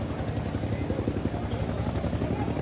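Helicopter dropping rose petals over Armero during a 40th-anniversary memorial for the victims, its rotor chop steady and fairly loud as it passes overhead.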